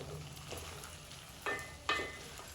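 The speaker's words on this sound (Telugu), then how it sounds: "ఫ్రై అవుతుంది వంకాయ మొత్తము" Eggplant pieces fry quietly in a pan in a soft, low sizzle, broken by two brief louder bursts of hissing, with no talk.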